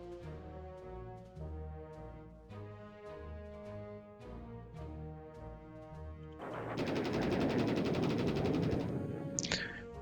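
In a WWII strategy video game, steady tonal game music plays, then a dense, loud burst of aircraft machine-gun strafing fire breaks in and continues to the end.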